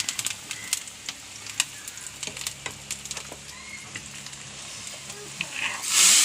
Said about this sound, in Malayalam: എണ്ണ കാഞ്ഞ ഉള്ളി ഇടുന്നു. രണ്ട് വേപ്പിൻ്റെ ഇല ഇടുന്നു.